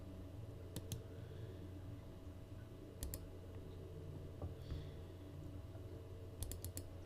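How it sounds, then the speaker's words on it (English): Mouse clicks on a computer while cutting and pasting spreadsheet cells, heard as three quick clusters of sharp double clicks spaced a few seconds apart over a steady low room hum. "I want to right click with my mouse and go to cut"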